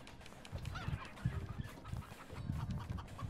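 A chicken in the co-op video game Moving Out clucks and squawks repeatedly, up close, amid a busy run of game sound effects with no talking.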